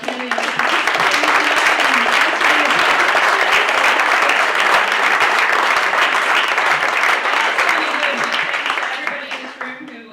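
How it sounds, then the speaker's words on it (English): An audience at a Santa Monica city council candidates forum claps loudly for the candidates, a dense burst of applause rising quickly, holding strong, then tapering off with faint voices. "I'd like to give a big round of applause to all of our candidates."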